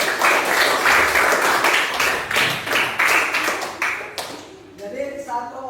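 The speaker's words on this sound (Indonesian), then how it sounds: "Beri apresiasi tepuk tangan untuk teman kalian." A classroom of students claps for a classmate, a dense burst of applause that fades out near the end as a voice starts talking over the last scattered claps.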